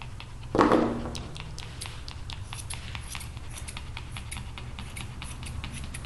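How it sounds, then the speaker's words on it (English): Grooming scissors snipping a Yorkie's hair for a short summer cut, a quick run of soft, close, rhythmic clicks after a brief louder rustle. "My scissors have a dull spot in them."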